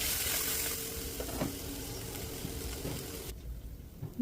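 Water goes into hot oil left in a pan after frying fish, producing a loud hissing sizzle that settles to a steady bubbling before cutting off abruptly near the end.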